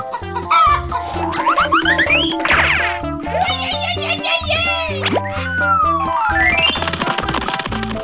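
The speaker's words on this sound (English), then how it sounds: "Chicken." Cartoonish chicken clucks, a rooster-like call among them, over bouncy music with boing effects and sliding tones; the noises come quickly, one after another.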